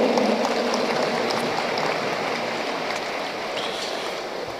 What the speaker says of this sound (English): let us give her a round of applause of encouragement